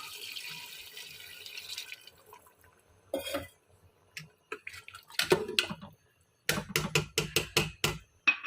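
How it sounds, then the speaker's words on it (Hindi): Two glasses of water tipped into sizzling fried masala for lobia chicken with white beans: a soft hiss gives way to sharp splashes and bursts of bubbling spatter, close and loud, with no talk. "अब इसमें पानी डालते हैं"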